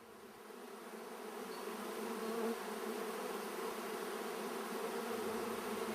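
Honey bees drone steadily around a breeding hive at an apiary, a dense, continuous buzz of many insects that swells slightly louder and then holds, alone without voices.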